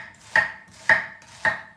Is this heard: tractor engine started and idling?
no